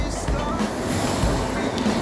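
Continuous sea surf washing in front of a house, heard from a rooftop: a steady broadband rush with wind buffeting the microphone, no distinct breaks between waves.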